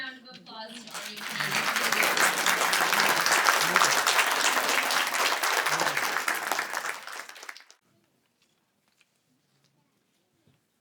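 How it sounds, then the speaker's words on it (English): A crowd at a Canadian citizenship ceremony breaks into loud, sustained applause that swells quickly, holds for several seconds, then stops abruptly and leaves near silence, with a voice briefly speaking at the start. "Let's give everyone one more round of applause to our new"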